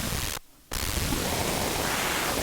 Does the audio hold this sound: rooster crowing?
no